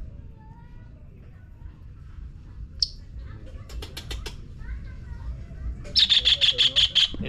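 Bird chirping on a street in Yogyakarta, Indonesia: one short call, then a quick burst of about seven bright, evenly spaced chirps near the end, clear over steady low background hum with faint voices.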